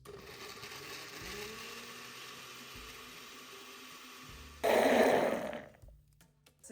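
A blender whirs while blending beetroot bread batter with eggs and oil, a steady motor drone that surges into a loud, churning roar near the end, then cuts off abruptly.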